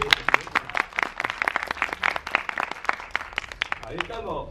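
Applause from an audience at a film screening Q&A, a spread of distinct hand claps from a modest crowd lasting a few seconds before fading out, with some talking underneath.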